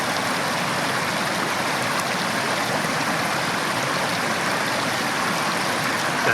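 Water runs steadily through a squeeze-bag backpacking filter in a continuous, close, even rush of flow with no voices.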